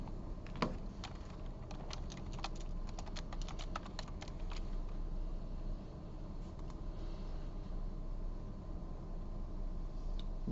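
Quick bursts of typing on a computer keyboard while code is edited, clustered light clicks in the first seconds then sparser taps, heard faintly over steady room hiss and fan noise.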